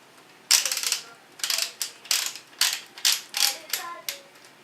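A part slowly screwed back onto a shotgun during cleaning, making a close series of sharp ratcheting clicks in an even rhythm, roughly a dozen turns, with no talking.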